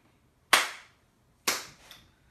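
Two sharp palm claps about a second apart in a body-music lesson, each a loud, crisp, close snap that fades quickly in a quiet room.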